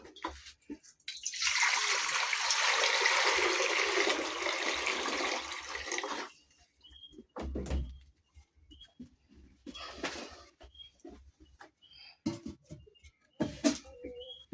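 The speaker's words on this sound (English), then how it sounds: "The water is put directly into the fire." Water is poured in a steady splashing stream for several seconds into a cooking pot over a village fire, then the sound stops and a few faint clinks and knocks follow.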